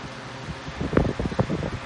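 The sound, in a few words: small drying fan blowing on a fursuit head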